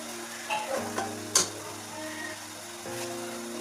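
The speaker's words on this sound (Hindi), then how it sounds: "अब इसको हिलाएंगे।" A pan of sugar syrup with cardamom, raisins and dried coconut for Mutanjan sweet rice, stirred in a few scattered scrapes over a low, steady hum and faint bubbling.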